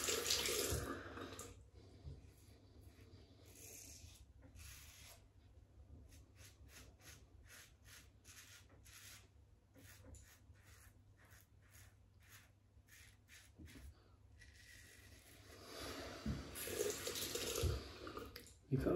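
Water tap running in short bursts for rinsing a 1960s Gillette Techmatic razor, a splashing flow that starts and stops, with quiet clicks and taps between.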